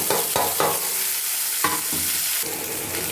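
Onions, with garlic, ginger, curry leaves and salt, sautéing for a spicy South Indian chutney, a loud continuous sizzle broken by several clanking stirs of a spatula in the pan, close up and without talk.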